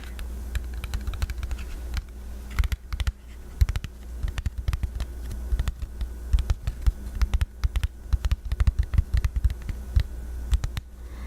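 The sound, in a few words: slow tapping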